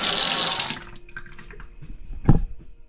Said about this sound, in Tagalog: Malakas na din yung tubig.